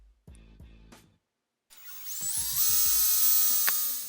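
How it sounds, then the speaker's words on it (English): A few short mechanical bursts, then a power drill spins up and drills a hole, running continuously at high speed, whining steadily before winding down. "grab my drill and drill a hole"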